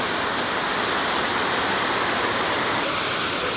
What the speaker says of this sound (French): Voilà la cascade du château de Nice, classée au patrimoine mondial de l'UNESCO.